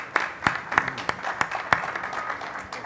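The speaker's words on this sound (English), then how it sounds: "please, round of applause" Conference audience at a sports sponsorship event gives brief, sparse applause, individual claps standing out in a loose, moderately quiet burst with no talk over it.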